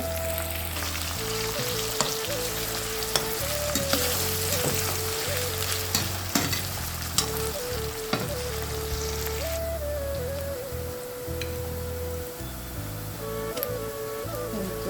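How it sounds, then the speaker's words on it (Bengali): Onions frying in oil with bay leaf, cloves, cardamom and cinnamon while making mung dal with chicken, a continuous close sizzle with crackling pops and occasional stirring clatter, no voices. "লং এলাচ দারচিনি পেঁয়াজ ভুনে নিচ্ছি ভালো করে পেঁয়াজ হলে পেঁয়াজের মধ্যে তেলের মধ্যে ভালো করে ভেজে নেব"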